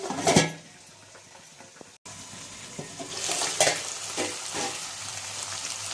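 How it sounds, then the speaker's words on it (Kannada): Ivy gourd curry frying in a pan while being stirred: a moderate sizzle with scraping spatula strokes, a brief cut near the two-second mark, then busier stirring bursts, no talk. "ಆವಾಗ ಈ ಫ್ರೈನ ತಿರ್ಸ್ಕೊಂತ ಇರಬೇಕು."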